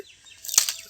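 Pigeons, racing and domestic birds kept in cages, scuffle in a brief burst of wing flapping that peaks mid-clip, close and fairly loud, with a faint bird sound beforehand.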